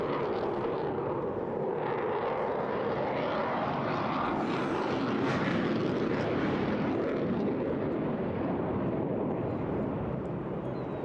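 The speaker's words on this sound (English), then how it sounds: "now he kicks in the afterburners" Jet fighter lighting its afterburners during an airshow display at Eastbourne, a broad, sustained roaring rush that swells slightly midway, distant and unbroken.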